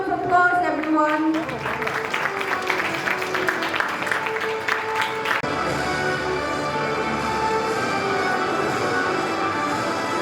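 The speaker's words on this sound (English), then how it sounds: "Let's invite them with a round of applause, everyone." Audience applause at a national moot court competition as a team of finalists is welcomed, steady clapping filling the hall throughout with music playing over it.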